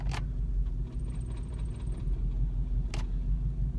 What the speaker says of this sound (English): The rear windows going up.